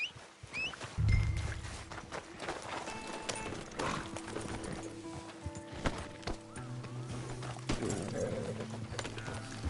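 Horse hooves clatter along at a steady riding pace in Red Dead Online, mixed with a busy game soundtrack, a brief low thump early on and occasional distant whinnies.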